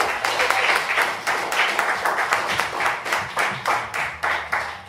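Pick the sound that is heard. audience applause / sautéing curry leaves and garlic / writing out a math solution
audience applause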